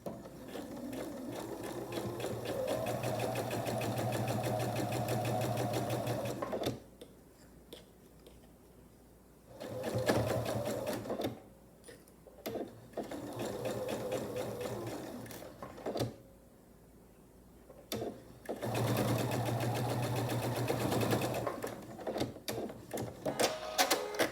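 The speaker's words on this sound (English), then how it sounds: "I'll take it to the machine. I'll sew a 1/4 inch seam allowance right along here." A sewing machine runs a scant quarter-inch seam on a sailboat quilt block, humming steadily in several long close stretches separated by quieter pauses with handling clicks.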